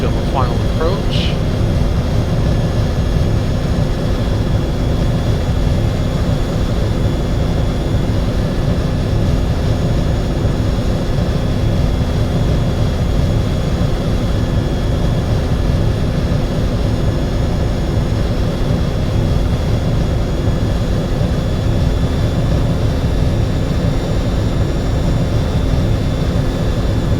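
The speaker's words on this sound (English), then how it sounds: "The aircraft has begun the descent now" Steady roar of MD-80 airliner jet engines in the X-Plane 10 flight simulator during descent, a constant loud drone with a faint high whine, unbroken throughout.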